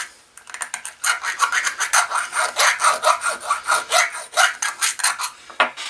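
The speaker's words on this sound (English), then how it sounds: "For the fiddly bits that are rounded, this is just a chainsaw file." A chainsaw file rasps over the rounded casting marks of a vintage cobbler hammer, a steady run of close, gritty back-and-forth strokes in a quick, even rhythm.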